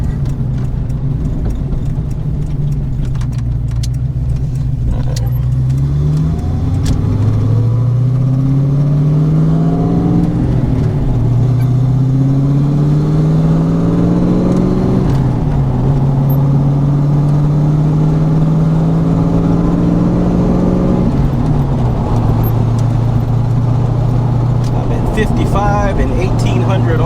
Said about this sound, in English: this 306 that's in here is a really high torque engine